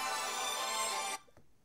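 A mobile phone rings in a lecture room with a bright electronic ringtone for about a second, then cuts off abruptly into near silence.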